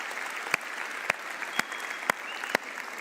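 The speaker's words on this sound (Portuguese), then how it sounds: "Vamos aplaudir ao Senhor por isso." Audience applause at a church service, a continuous patter of many hands with several sharp, louder individual claps standing out at roughly half-second intervals, fairly close.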